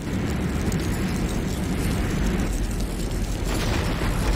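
A building blows up in the game C&C Renegade, a GDI Advanced Guard Tower going down with a dense, sustained rumbling blast. The roar fills the whole stretch at steady loudness, with no gaps.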